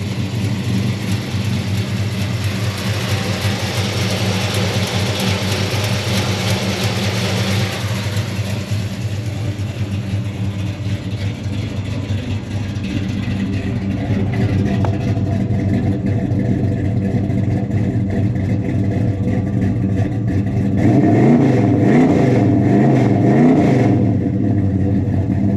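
A 1966 Plymouth Belvedere with a 440 V8 idles with a deep, steady rumble close by, then revs hard in a loud burst near the end before settling back.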